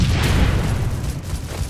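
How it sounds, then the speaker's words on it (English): A grenade explodes in the video game Phantom Forces, a loud, close, low rumbling boom that stays dense and sustained through the whole moment and slowly decays, with no voices over it. "Oh, they threw a grenade down here."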